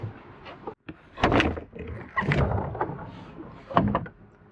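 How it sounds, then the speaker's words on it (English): A back door of a vehicle or building is opened at a cold lava tube, with several clunks and rattling thuds close by, then a sharper knock near the end. "So we open the back door."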